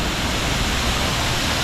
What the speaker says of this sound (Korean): 길끝에 폭포가 이렇게 있어요.